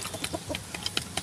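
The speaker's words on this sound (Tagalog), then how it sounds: "Yung mga manok ko na alaga." Backyard pet chickens clucking close by, a quick run of short, sharp clucks and chirps in an irregular rhythm.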